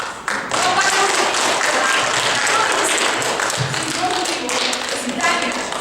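An audience applauds at a Komi writers' presentation: steady, dense clapping from a crowd that carries on for several seconds at a moderate level.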